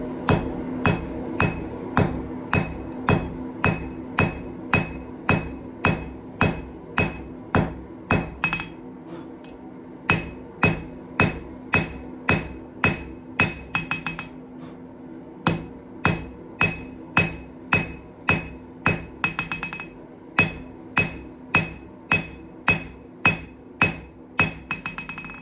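A hammer forging a knife on an anvil rings out in steady, evenly spaced metallic strikes, close and loud, with a couple of brief pauses between runs of blows and no talking.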